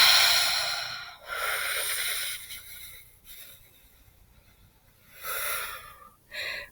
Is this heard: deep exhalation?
yes